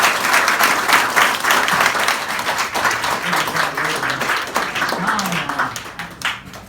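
Audience applauding at a reception for a retired rear admiral, sustained dense clapping from a crowd in a hall that tapers off near the end, with faint voices underneath.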